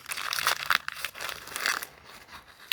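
A plastic bag of small, slightly rusty machine screws is opened, giving close, dry crinkling and rustling in irregular bursts across a few seconds, with no voices.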